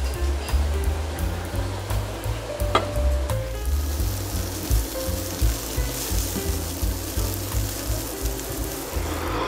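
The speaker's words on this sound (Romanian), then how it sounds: "Guanciale sfârâie aici" Guanciale sizzling in a frying pan while spaghetti carbonara is made: a steady, continuous crackling fry that holds for the whole stretch, with a low rumbling bed and a few faint kitchen clinks, and no one talking.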